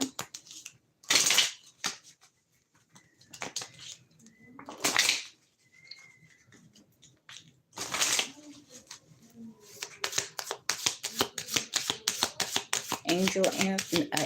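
A deck of angel answer oracle cards shuffled by hand in several bursts of crisp riffling and flapping, separated by pauses, ending in a longer run of rapid card clicks. Close and fairly loud, with some quiet noise in the gaps.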